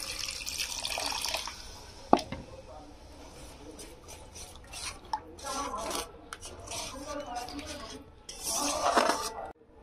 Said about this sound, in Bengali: এখানে আমি জল দেবো।